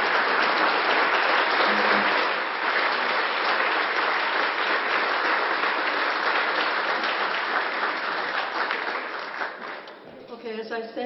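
A benefit dinner audience gives a long, loud round of applause for the staff and Terrie, dense clapping filling most of the stretch before easing off as a voice begins talking at the end.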